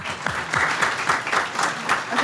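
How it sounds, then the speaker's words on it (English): An audience claps at a talk, steady close applause with a faint voice over the clapping. "Round of applause."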